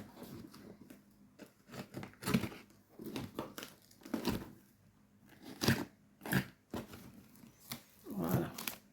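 Crinkling and tearing of heavily taped packaging as a swap parcel is opened, in irregular bursts, close by, with a few quiet murmurs.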